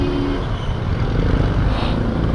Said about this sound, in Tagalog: Grabe, tindi ng traffic.